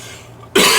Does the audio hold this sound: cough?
yes